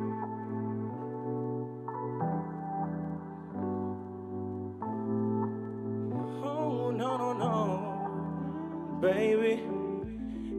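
An unreleased reggaeton-style song by a Barranquilla act plays at steady volume with sustained low synth chords shifting every couple of seconds, then a sung melody and brighter layers entering midway, with no talk.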